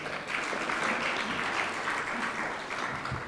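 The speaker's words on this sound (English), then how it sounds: "Let us applaud the panelists once again." An audience at an African coffee summit applauds the panelists, steady moderate clapping from a seated crowd filling the room throughout.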